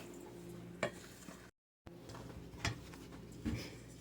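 Cream of anything master mix is stirred steadily, with soft, quiet scraping and a few light knocks against the container, close by and otherwise calm.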